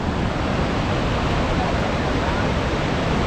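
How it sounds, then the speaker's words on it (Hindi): Alaknanda river rushing along the Kedarnath trek, a loud, steady broadband roar of flowing water that fills the whole clip without pause, close and continuous. "ये अपनी अलकनंदा नदी बहती हुई, और आप शोर सुन रहे हैं, बहाव का शोर"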